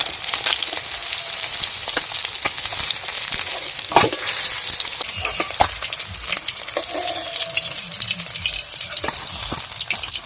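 Pieces of bhola river fish fry in hot oil for a fish curry with mustard paste, a dense continuous sizzle close up with occasional sharp pops and stirring clicks.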